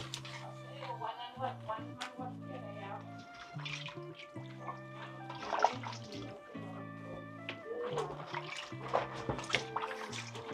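Corn on the cob is rinsed under a running tap, a steady stream of water splashing with small knocks and handling noises, while music plays faintly underneath.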